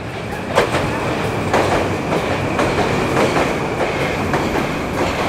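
A Moscow Metro train rumbles loudly past, with a steady roar and regular clickety-clack of wheels over rail joints.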